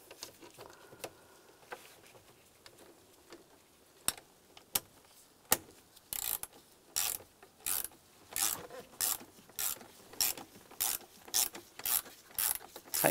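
Screws on the combination switch of a 1998–2002 Lincoln Navigator being tightened with a ratchet, giving close, crisp clicking bursts that turn into a steady repeating series of loud ratchet strokes.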